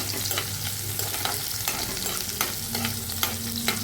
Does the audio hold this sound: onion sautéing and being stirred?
yes